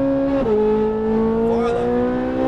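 A Ferrari 458 Italia's engine pulls under throttle with a loud, sustained high-pitched howl whose pitch steps and then climbs steadily, heard up close and steady throughout.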